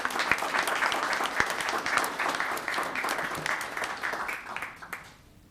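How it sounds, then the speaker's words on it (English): A round of applause fills a town council chamber in Los Gatos, a full crowd clapping steadily with a few sharp claps standing out, fading away over the last half second. "Let's give her a round of applause."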